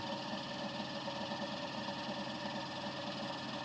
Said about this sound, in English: it's kind of like a starter motor to get the rotoverter up to speed.